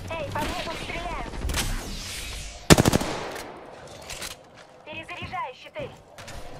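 Video-game gunfire: rapid bursts of automatic weapon fire, with one sharp, loud volley in the middle, set among other battle noise while in-game voices speak throughout.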